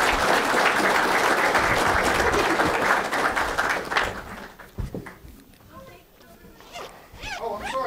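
An audience claps to welcome a guest speaker at a talk on scripture, steady applause for about four seconds that dies down into scattered claps and murmuring voices.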